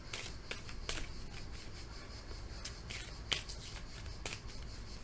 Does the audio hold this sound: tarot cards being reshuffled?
yes